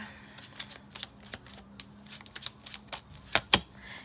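A deck of oracle cards being shuffled by hand, close and fairly crisp, in a run of riffling and flicking bursts that ends with two sharp snaps.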